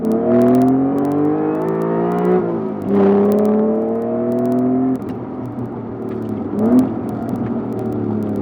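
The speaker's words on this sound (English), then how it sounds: "And that sound, custom AEM exhaust doing its job." A loud custom AEM aftermarket car exhaust drones and rises through repeated accelerations, each climb in pitch followed by a drop as gears shift, heard up close.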